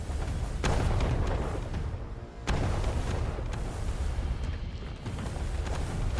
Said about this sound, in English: I appreciate the little like kind of miniature explosion noises